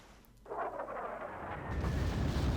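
Ships firing as artillery in the wartime strategy game Panzer Corps: a sudden heavy boom after a quiet start, followed by a sustained rumbling roar that keeps building in loudness.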